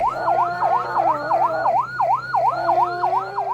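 An ambulance siren wails in a fast, regular up-and-down cycle, about ten sweeps in a few seconds, moderately loud and steady with faint traffic noise beneath.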